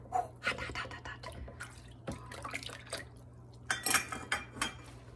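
Water drips, splashes and clinks while dishes are rinsed by hand under a hot tap in a kitchen sink, with irregular close splashes and handling sounds and no talk.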